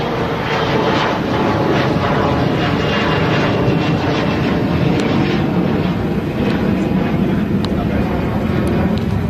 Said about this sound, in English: you probably are hearing an airplane flying overhead